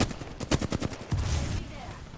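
Video game gunfire: a quick run of sharp, evenly spaced shots in the first second, followed by a louder noisy burst that fades out.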